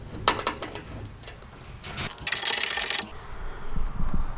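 A bolt is started on a bedside rack panel for a 2020 Jeep Gladiator, with close scraping and metal handling, a few light clicks, and a steady rasping burst partway through.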